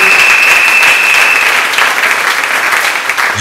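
A church congregation applauds loudly and steadily, close and sustained, with a faint whistle near the start and no talking over it.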